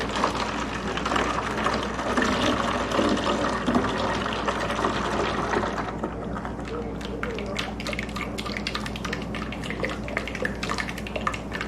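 Canada Dry ginger ale is poured from a liter bottle into a gallon jug for ginger tea, a steady gurgling splash that continues throughout with a voice speaking over it.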